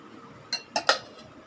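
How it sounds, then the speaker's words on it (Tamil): A metal lid set onto a bowl of rava bonda batter gives three quick, close clinks, the second and third tightly spaced, each followed by a short ring before a quiet background. "இதை ஒரு மூடி போட்டு வச்சிடுறேன்"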